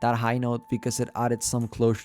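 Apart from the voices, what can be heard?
No everyday noises stand out.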